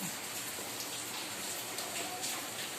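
Steady rain falls and patters on surfaces and an umbrella outdoors, a soft continuous hiss with faint scattered drops and no clear voices.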